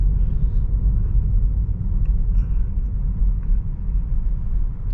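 A Tesla Model 3 electric car accelerates, heard from inside the cabin. A steady, loud low rumble of road and drive noise holds throughout, with no engine note and only faint higher detail.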